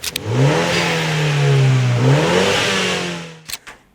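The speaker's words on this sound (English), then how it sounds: "what the standard exhaust sounds like on the car" Mini JCW F56 on its standard exhaust revving, a loud engine note rising and holding, dipping and climbing again, then dropping away with a couple of short pops and crackles.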